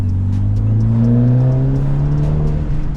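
A BMW 330e with an aftermarket exhaust revs loudly and steadily, its rising engine note climbing through a sustained pull with no voices.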